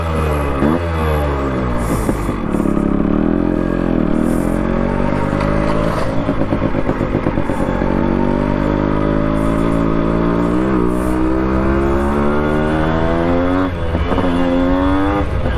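Yamaha RX100 two-stroke motorcycle running steadily after a single kick start, a continuous loud buzzing engine note with slight shifts in pitch as it moves along, close and without speech.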